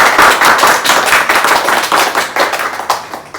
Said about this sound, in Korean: 우리 감사의 박수를 한번 하나님께 드리면 좋겠습니다